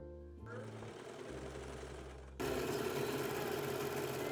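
Sewing machine stitching the side seams of a skort, running in steady rapid bursts up close, first slower and lighter, then louder and faster with a constant mechanical whir.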